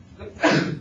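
A single short sneeze bursts out during a math lesson, a brief broadband blast at moderate loudness over a quiet room.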